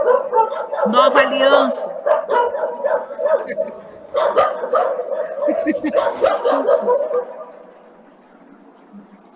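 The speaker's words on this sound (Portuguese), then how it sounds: "Foi cachorro latindo?" A dog barks and yips repeatedly at a moderate distance, the short barks mixed under people talking.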